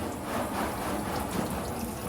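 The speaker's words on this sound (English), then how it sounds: "All we're doing is we're just putting a light coat of water on both sides." Water is lightly sprayed onto both sides of a silk screen, making a steady, close hiss that carries on evenly without a break and without any voices.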